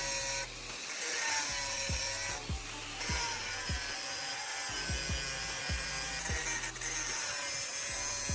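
Tool tips clamped in a vise are ground down, giving a steady abrasive rasp broken by repeated short scraping strokes in an even rhythm, with no talking.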